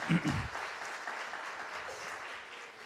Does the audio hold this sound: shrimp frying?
no